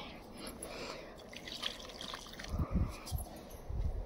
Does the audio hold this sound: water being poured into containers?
yes